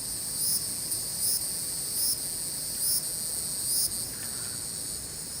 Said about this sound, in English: can you hear all the cicadas?